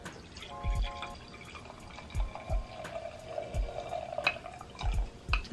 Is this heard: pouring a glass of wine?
yes